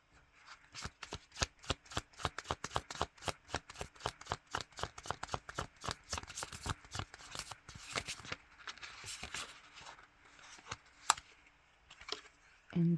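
Oracle cards are shuffled at close range, a long run of rapid crisp flicking riffles in an uneven rhythm, fairly faint, ending with a few soft taps and handling sounds as cards are drawn.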